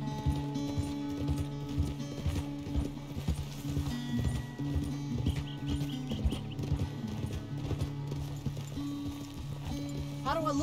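Horse hooves clip-clop in a steady galloping rhythm in Red Dead Redemption 2, close and continuous under background music and speech, with a brief whinny near the end.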